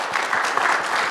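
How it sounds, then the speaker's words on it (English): An audience at a security dialogue conference claps for its distinguished panelists, a dense, even burst of applause filling the room. "give the big round of applause to our distinguished panelists for their insightful contribution"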